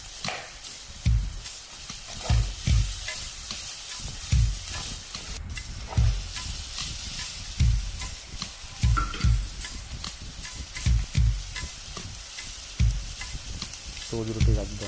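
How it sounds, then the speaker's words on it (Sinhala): Pork pieces for a black pork curry fry in a pan of oil with a steady hiss, while repeated scraping stir strokes sound loud and close. "මේක හොඳින් විනාඩි 2ක් විතර ටෙම්පරාදු කරගන්න."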